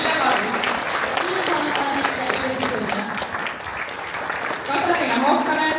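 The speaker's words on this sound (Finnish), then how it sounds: "Antakaa huikeat aplodit vuoden 2024 pareille." Audience applause at a Finnish upper secondary school's traditional dance as the 2024 couples enter, a steady, loud crowd clapping sustained throughout, with voices and a few cheers mixed in.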